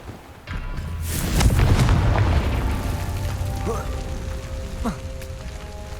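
In the Hogwarts Legacy video game, a Confringo fire spell goes off with a deep, booming blast and a rumbling tail, then quieter crackles and pops follow as the effects settle, with a voice sounding briefly.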